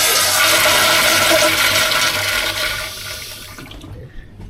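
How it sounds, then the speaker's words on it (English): A toilet flushing at the South Pole research station in Antarctica, a loud rushing gush of water that holds steady for several seconds and then drains away to quiet. "they actually have a toilet, and I have to flush it to see which direction the water goes"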